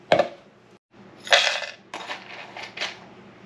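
Two dates drop into a Ninja CREAMi Deluxe ice cream maker container, a few close, sharp clattering impacts with short pauses between them and no talk.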